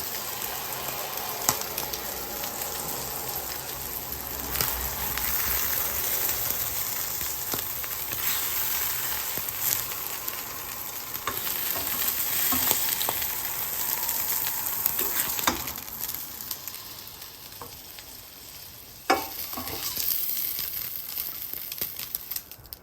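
Battered mussels frying in a pan, a steady close sizzle and crackle of hot oil with occasional scraping and stirring clicks throughout, no talking.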